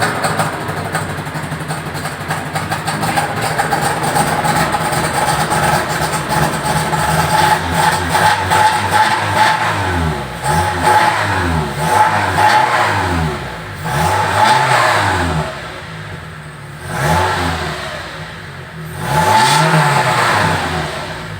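A 2009 Toyota Innova engine revving during an engine-cleaning tune-up. Repeated rising and falling revs climb from idle in long sweeps, loud and close, with short pauses between bursts.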